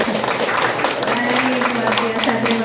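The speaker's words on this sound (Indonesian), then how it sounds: "Mungkin saya boleh diberi tepuk tangan untuk kehadiran Bapak dan Ibu." An audience claps at an Indonesian seminar: dense, steady applause fills the whole moment, loud and close, with a voice talking over it.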